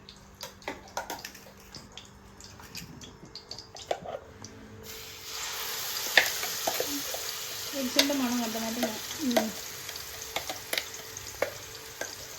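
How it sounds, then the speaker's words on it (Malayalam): Ground mushroom curry paste sautéing in hot oil in a pan for mushroom curry, a sudden rise in hissing sizzle midway with scraping stirs, close up and without talk. "ചൂടായിട്ട് നമുക്ക് ഇതിട്ടിട്ട് നന്നായിട്ട് വഴറ്റിയെടുക്കാം."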